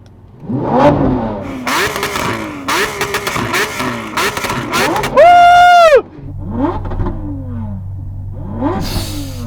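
A loud Lamborghini Aventador SVJ engine blipping its throttle again and again, then a long sustained high-pitched rev before dropping to a rumbling idle and more revs.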